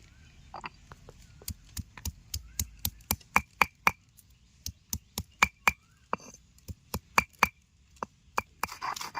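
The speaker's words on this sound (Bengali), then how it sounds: "এবার কেটে রাখা আদাগুলো বেটে নেব।" Chopped ginger pounded into a paste on a grinding stone, giving a steady series of sharp, close knocks at a regular rhythm, with no talking.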